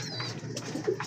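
Racing pigeon breeders coo softly at feeding time, with a couple of low, short coos near the end over quiet chirpy background.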